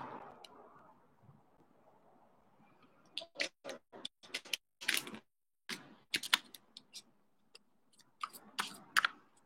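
Riffling and snapping of a deck of cards being shuffled, several quick flurries of crisp flicks with brief gaps, close up and fairly quiet.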